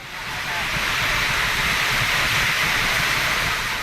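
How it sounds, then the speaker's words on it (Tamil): Heavy rain pours down with gusting wind during a thunderstorm in Kallakurichi district, Tamil Nadu, a steady, dense hiss of rainfall that holds loud and unbroken throughout. "கள்ளக்குறிச்சி மாவட்டத்தில் பல்வேறு பகுதிகளில் இடி மின்னல் மற்றும் காற்றுடன் கூடிய மழை பெய்தது"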